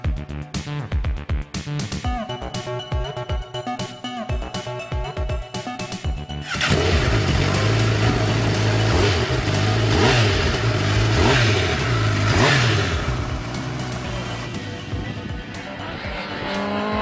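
New Honda CBR 1000 RR Fireblade superbike on a race circuit, engine droning and shifting through gears, then a louder, fuller high-revving pass as it draws near, fading slightly toward the end.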